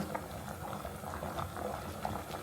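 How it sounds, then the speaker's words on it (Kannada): Curry bubbles at a steady, vigorous boil in a pot, with a close, continuous dense patter and no voices. "ಇವಾಗ ಚೆನ್ನಾಗಿ ಕುದಿಯೋದಕ್ಕೆ ಸ್ಟಾರ್ಟ್ ಆಯಿತು"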